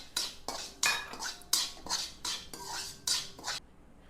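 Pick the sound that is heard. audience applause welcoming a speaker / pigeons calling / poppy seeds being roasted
poppy seeds being roasted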